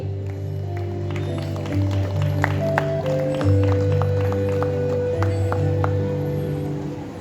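An audience at a school event gives a round of applause, a steady wash of many hands clapping under sustained background music, with sharp individual claps standing out.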